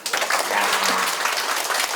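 Applause breaks out at a community agenda-development workshop in Ssangmun-dong for two staff members, a short burst of many hands clapping close by, with a brief voice heard faintly beneath it.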